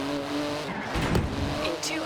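Porsche GT2 RS engine in Forza Horizon 4, with magnesium wheels and a titanium exhaust, droning steadily close by and surging briefly louder midway, under a man's speech.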